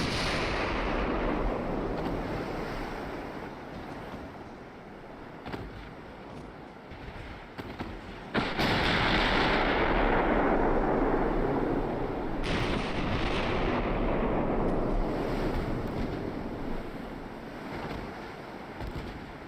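Heavy naval guns fire in a video game battle against the Bismarck, deep booming blasts at intervals, around eight and twelve seconds, over a constant wind-and-sea rumble.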